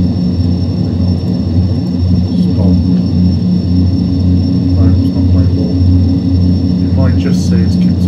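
Dash 8 (DH8D) turboprop engines in the FSX flight simulator drone with a steady, loud low rumble and a constant high tone, while someone talks over the sound throughout.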